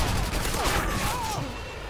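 A Harrier jet airstrike in Modern Warfare 2 gameplay brings dense, continuous rattling gunfire, loud and close throughout.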